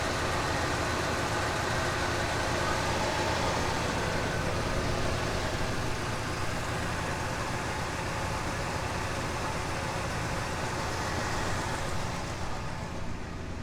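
A cold 1967 or 1975 Oldsmobile Delta 88 V8 idling on fast idle, a smooth, steady low rumble with broadband hiss and very quiet exhaust, constant throughout with no speech.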